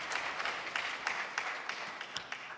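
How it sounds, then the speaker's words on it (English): Audience at a vice-chancellor search event claps for themselves, a steady moderate patter of many hands with a few sharper individual claps standing out, heard from a distance. "So can you give yourselves a clap?"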